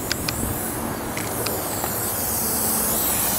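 A Rust-Oleum spray paint can hisses in a continuous, close spray, preceded by a few short clicks and bursts as the nozzle is pressed.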